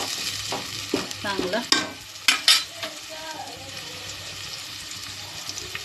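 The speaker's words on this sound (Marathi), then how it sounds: "तेल खूप गरम झालेलं, आणि कांदा हलकासा लालसर असा करून घ्यायचा आहे आपल्याला" Onion frying in very hot oil for veg paneer biryani, with a steady sizzle under repeated stirring scrapes and clinks of a spoon against the pan, close up, while someone speaks briefly.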